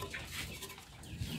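An Australorp and Elba cross chicken about two months old clucks in a farm coop, with soft, close, scattered clucks over a busy background.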